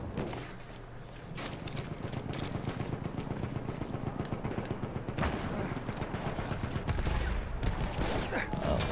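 Light machine gun fire in Battlefield 1 multiplayer with the Apocalypse DLC: dense, rapid bursts of loud gunshots in steady succession, layered with more distant battlefield fire, continuous for the whole stretch.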